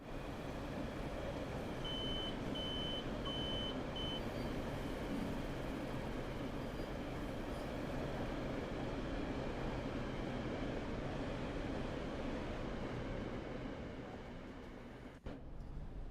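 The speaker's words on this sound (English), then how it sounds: "we have a sound mod on this train as well" A modded train in Train Sim World 6 rumbles in a steady, loud run with a continuous rolling roar. A faint intermittent beep tone sounds early on, and the noise eases slightly near the end.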